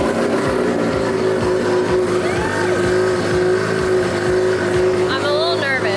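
Rotary engine of a Nissan S15 drift car with a DCT gearbox idling steadily and loudly close by, a continuous rough drone with uneven pulsing throughout; people talk over it.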